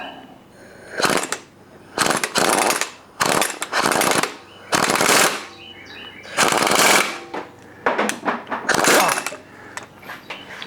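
Air impact wrench driving a leaf spring bolt on a 1976 Jeep CJ-5 frame, loud repeated bursts of hammering rattle, about eight short runs of one to two seconds separated by brief pauses.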